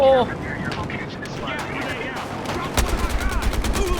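Gunfire rattles in a Battlefield video game: scattered shots and explosions, then a fast, even burst of automatic fire near the end, loud and close, with someone talking over the action.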